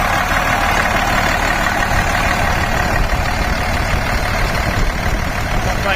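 A Cummins diesel engine runs at a steady idle, a loud, close, continuous rumble with no pauses or changes in pace.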